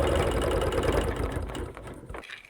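A sewing machine runs continuously and close while stitching a quilt seam, a dense mechanical whir that eases off and stops just before the end.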